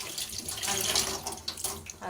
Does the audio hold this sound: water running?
yes